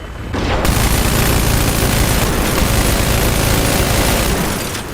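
In the video game Medal of Honor: Warfighter, loud sustained gunfire and explosive booms fill the scene in a dense, continuous barrage, close and overwhelming from start to finish.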